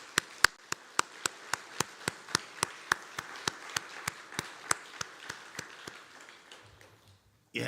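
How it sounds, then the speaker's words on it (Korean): Church congregation clapping during a Sunday service: sharp, evenly spaced claps in a steady unison rhythm, about twenty in a row, gradually softening before they stop. "우리가 참 작은 것이지만 박수로 한번 격려하도록 하겠습니다"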